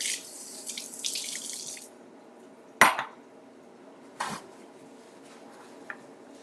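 A kitchen sink tap runs for about two seconds while something is rinsed during breakfast cooking, followed by a few sharp clinks of dishes or utensils set down close by in an otherwise quiet room.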